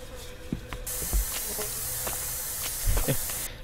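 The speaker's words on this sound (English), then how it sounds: "I wonder if we can just spray paint the entire map." A spray paint can in the video game Erie hisses in a steady, loud burst lasting a few seconds, starting abruptly and cutting off sharply, over faint low thumps and footsteps.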